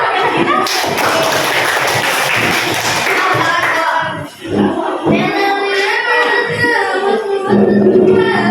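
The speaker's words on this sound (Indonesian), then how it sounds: "Tepuk tangan dulu." Schoolchildren clap hands together in a loud, close burst at a school health talk, the applause fading out before children's voices and talking take over.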